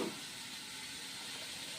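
Potatoes frying under a lid in a covered pan give a steady, broadband sizzling hiss that holds evenly from start to finish, close and fairly loud, with no voices.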